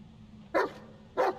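A dog barks twice in the Blair Witch video game, two sharp evenly spaced barks about half a second apart over a quiet background.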